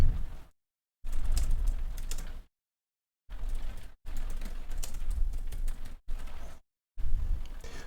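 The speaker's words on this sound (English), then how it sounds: "you want to type a title, and then you want to type a description" Typing on a computer keyboard, heard as several bursts of rapid, close clicking separated by short silent gaps, with no talk.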